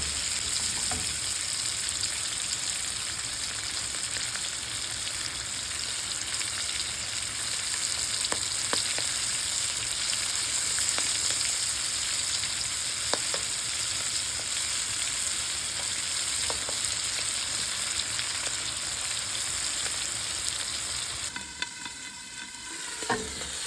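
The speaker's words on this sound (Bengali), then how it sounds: "মাছ ভাজা হচ্ছে" Hilsa fish pieces frying in oil give a long, even sizzle with occasional sharp pops and spatters, close by and steady, and a brief clatter of movement near the end.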